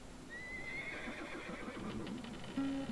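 A horse whinnies with a rising, drawn-out neigh, fairly close and clear, followed by soft snorting and shuffling, with no talk over it.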